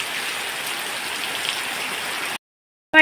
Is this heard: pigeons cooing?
no